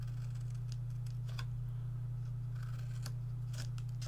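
Scissors cut card stock for a Stampin' Up mini box and cards, snipping from the corner down with several crisp, close cutting strokes over a steady low hum.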